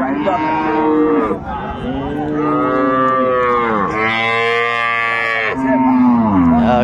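Dairy cows and calves of improved breed mooing at Raniganj cattle market in Dinajpur, several long, loud bellows following one another close by, with faint market chatter underneath.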